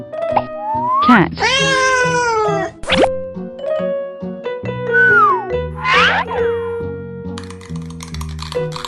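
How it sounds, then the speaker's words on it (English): A cartoon-style cat meows in a children's farm-animal learning piece, with a few rising and falling meow calls mixed among playful plops, dings and musical effects. "Cat."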